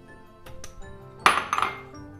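Pancake batter of kefir and dry ingredients mixed in a bowl: a few light clinks of utensil on the bowl, then a brief burst of scraping and tapping, close and moderately loud with no talking.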